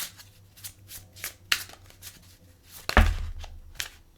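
Tarot cards being shuffled and drawn by hand, with a run of soft riffling flicks followed by a sharper slap of cards near the end, close and clear with no talking.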